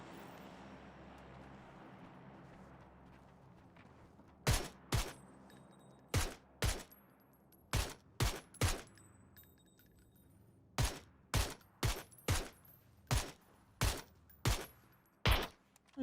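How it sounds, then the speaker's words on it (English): Gunfire in the battle royale game PUBG, with a string of sharp, loud single shots in uneven bursts over quiet background ambience, no talk. "What are you shooting at?"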